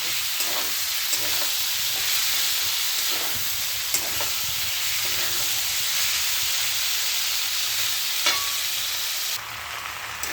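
Food sautéing in a pan with steady, close sizzling and frying noise, broken by a few stirring scrapes and clinks, with no talk.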